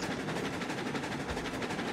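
Train rolling on rails in the Railroads Online video game, a dense, steady rumble with a rapid rhythmic clatter running throughout, loud and close, with no voices.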